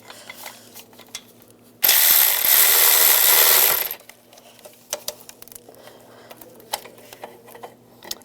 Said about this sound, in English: Now I'm going to take those two studs out. Use a 13mm socket.